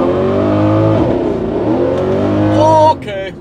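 A Mercedes C63 fitted with a large prototype supercharger accelerates with its wheels spinning for lack of traction, the loud revving engine climbing in pitch and ending with a brief high squeal, while people talk over it.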